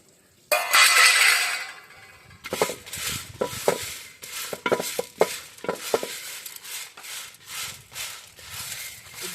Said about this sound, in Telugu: మనం ఎండుమిర్చి వేసుకుందాం ఆ వేడికే ఎండుమిర్చి వేగిపోతాయండి